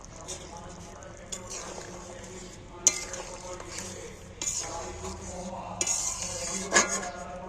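Fish pieces placed one at a time into a pan of bubbling spicy curry, soft sizzles and small clatters of utensil against pan, close by and fairly quiet, with a few sharper knocks.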